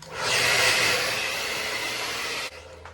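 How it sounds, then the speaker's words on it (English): Hair dryer blowing hot air over glue on a human-hair wig install, a loud steady whoosh that holds close for about two and a half seconds and then clicks off, with no speech. "So yeah, blow dry."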